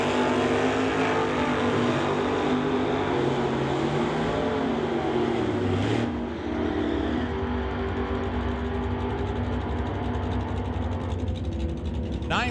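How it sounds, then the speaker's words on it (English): A 1946 Ford and a Nova at a drag race, loud roaring engines and mechanical racket filling the whole stretch, with a brief shift in tone midway. "A 1946 Ford will race Darren Burt in the Nova."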